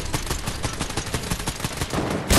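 Video game firefight with a sniper and other guns, a steady stream of sharp shots at an even rhythm, ending in a louder, heavier blast.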